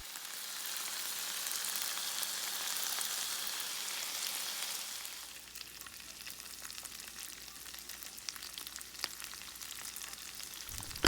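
Onions sizzling loudly in hot oil for shawarma, a dense, continuous frying hiss that drops to a quieter crackle and spatter partway through, close and with no talking.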